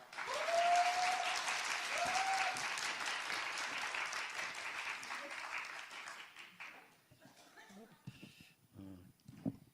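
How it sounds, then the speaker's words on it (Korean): A church congregation applauds to welcome a guest pastor to the pulpit, a sustained, dense clapping that is loud at first, then thins and fades out toward the end, with a brief tonal sound near the start. "박수로 한번 환영합니다"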